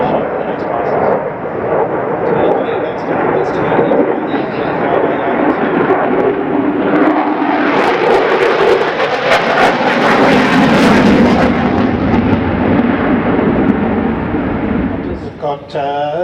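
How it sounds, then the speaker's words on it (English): Two F-35 fighter jets roar past at the Australian International Airshow, a loud sustained rumble that swells and peaks midway, with a voice talking over it throughout. "We've got F-35 from the right, 2 of them."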